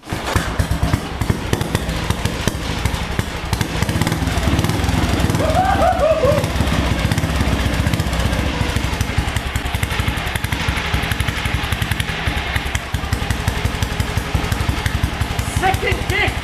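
A BSA B33 Scrambler single-cylinder motorcycle fires up after a kick and runs, loud rapid thumping exhaust beats with crackling, rough and steady at close range, with voices faintly audible beneath.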